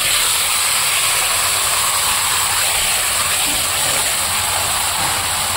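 Marinated chicken dropped into hot oil over fried potatoes gives a steady, loud, dense sizzle and hiss that holds evenly throughout with no pauses.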